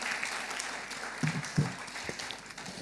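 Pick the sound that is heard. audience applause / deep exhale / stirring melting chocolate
audience applause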